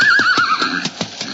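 A horse neighs in an old-time radio western drama, a loud, close whinny with a wavering pitch, followed by a few hoof clops.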